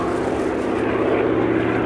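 A Hawker Fury FB.II piston-engined fighter performs a rolling turn at an airshow, its propeller engine a loud, steady, continuous drone throughout.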